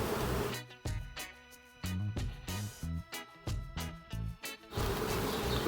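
Honey bees buzz during a hive inspection, a close, droning hum broken into several pulsing bursts with brief gaps between them, and no voices.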